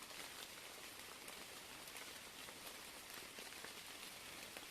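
Steady, fairly quiet patter of rain falling on a surface, continuous and even throughout with no voices.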